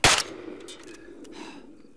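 One sharp airsoft gunshot cracks loudly at the start during a team skirmish game, followed by fainter scattered pops and clatter in the distance.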